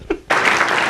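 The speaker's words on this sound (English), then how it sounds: "Terry and Todd, give them a big round of applause." Applause from a live interview audience for Terry and Todd bursts in loud and dense after a brief quieter moment, a steady wash of clapping hands close by.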